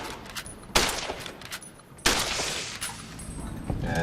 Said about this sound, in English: this is the varmint rifle